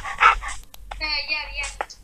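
Dogs bark in the video game Minecraft, with one sharp bark at the start and softer yips after it. Someone talks over the sounds for most of the stretch.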